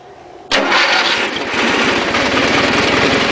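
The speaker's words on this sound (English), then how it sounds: "y'all never actually heard this Dayton fire up, have y'all?" A Dayton engine, an older machine that runs rough, cranks and fires up, then settles into a loud, steady, rapid chugging close by.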